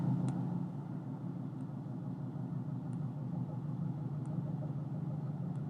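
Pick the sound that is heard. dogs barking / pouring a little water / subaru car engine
subaru car engine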